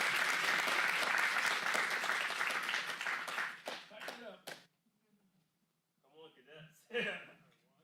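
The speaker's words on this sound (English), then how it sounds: "Let's give them a huge round of applause." Loud audience applause at a county board of supervisors meeting fills the first several seconds, thinning into scattered claps before a short pause and a few more claps with voices nearby.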